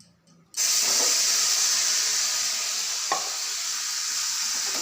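Spice paste hits hot oil with cumin seeds in a wok, bursting after a quiet start into a loud, sustained hiss and sizzle that holds steady, with a single sharp clink of a utensil partway through.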